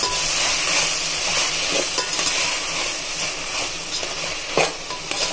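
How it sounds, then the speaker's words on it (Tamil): Tomatoes sautéing in a hot pan, a loud continuous close sizzle broken by repeated stirring scrapes and utensil knocks, with no voices. "நல்லா வதங்கட்டும் தக்காளி எல்லாம்."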